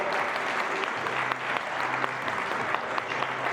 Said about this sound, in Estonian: Ja aplaus võitjatele.